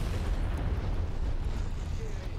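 A continuous deep rumbling roar of a video game explosion like a sustained blast, loud and heavy in the low end, with no clear voices.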